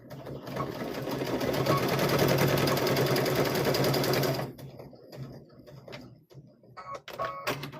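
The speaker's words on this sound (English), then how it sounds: "I'm going to sew over to that 4 is what I'm going to do. I'm going to back stitch that there." A sewing machine back stitching a quilted Halloween tote bag, a fast steady whirring run of stitches for about four seconds, close and loud, then stopping into quieter handling clicks and rustles.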